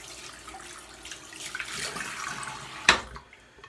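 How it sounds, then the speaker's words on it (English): A shaving soap puck is rinsed under a running tap, giving a close, fairly quiet wash of running water with a brief splash near the end and no speech. "Rinse off the puck here."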